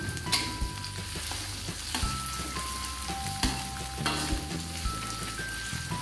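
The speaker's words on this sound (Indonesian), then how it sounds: "kemudian saya memasukkan cabainya serta lengkuas, kunyit dan jahenya semua saya masukkan tumis hingga harum" Chilies, galangal, turmeric and ginger sizzle loudly in hot oil for a spicy coconut-milk fish dish. The frying is steady and close, with soft stirring knocks and a faint melody playing underneath.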